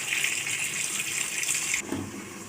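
Water streams steadily from a tap into a cooking pot of potatoes for steaming, a continuous splashing gush that stops abruptly partway, followed by a few faint clatters of the pot.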